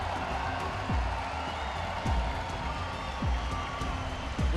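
Home crowd in a Düsseldorf judo Grand Prix arena roars steadily throughout, a dense continuous wash of cheering with periodic low thuds and surges of noise.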